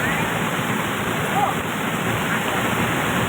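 Heavy rain pours down in Jaitpur, Mahoba, a dense, steady rushing hiss that stays loud and unbroken throughout, like water falling in torrents close by.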